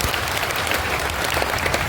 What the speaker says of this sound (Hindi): जोरदार ताली बजाओ, समझ में आ रही है।